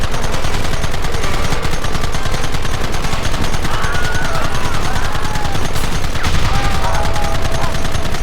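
Sustained gunfire in the Red Dead Redemption video game, dense rapid shots rattling continuously at a loud, steady level throughout, with faint voices and other game sounds underneath.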